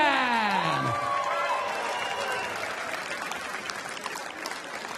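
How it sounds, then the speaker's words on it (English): Crowd applause for a darts player at a world championship semi-final, steady clapping and faint cheering in a large hall, partly covered at first by a sweeping musical tone that fades out. "Ladies and gentlemen, keep your applause going for Priscilla Steenbergen."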